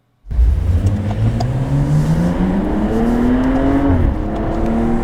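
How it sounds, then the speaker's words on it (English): A 2014 BMW M235i pulls away on a handling circuit at Las Vegas Speedway, its engine note bursting in loud and climbing steadily in pitch through a gear, then dipping and rising again, close and continuous. "Okay, so I've got 3 laps in the M235i. I've just taken off here."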